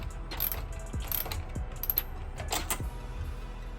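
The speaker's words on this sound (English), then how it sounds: "Go ahead and tighten it all the way down." A ratchet tightening a clamp on a titanium intercooler pipe for a Sea-Doo, giving a few quick, faint clicking bursts close by.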